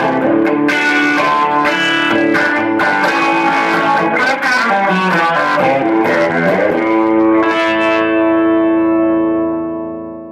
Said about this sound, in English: this is a combination of the bridge humbucker and one of the coils from the neck.